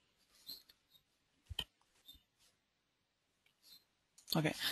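Computer mouse clicks: a handful of sharp, isolated clicks scattered across a quiet room, close to the microphone, with a louder burst of noise at the end.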